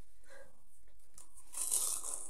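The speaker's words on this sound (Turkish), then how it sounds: "Şimdi ayakkabıyı açıyorum." Converse shoebox being opened, with a short burst of loud paper tearing and crinkling near the end after quieter rustling; no talk.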